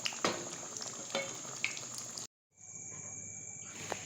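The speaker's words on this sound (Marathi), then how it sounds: "असे वडे तळत आले ना एका बाजूने त्याच्यानंतर असे उलटे करायचे म्हणजे दोन्ही बाजूने चांगले वडे तळून निघतात" Potato vada fritters sizzling in hot oil for vada pav, a steady bright crackling hiss with occasional pops, briefly cut off then resuming.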